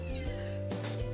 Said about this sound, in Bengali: একটা খটাসের বাচ্চা হয়েছে, কিন্তু কোথায় মিয়াও মিয়াও করছে।